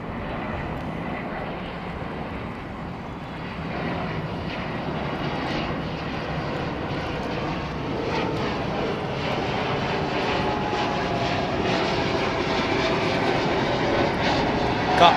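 Airliner departing Heathrow airport, its jet engines a loud continuous roar that builds gradually over about fifteen seconds.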